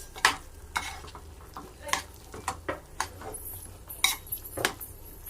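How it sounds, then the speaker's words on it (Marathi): Boiled chickpeas being stirred in a pan of cooked masala make repeated scraping clinks of a spoon against metal, with some soft sizzling in the background and a quiet voice now and then. "बॉईल करून घेतलेले छोले टाकूया. हे छान मिक्स करून"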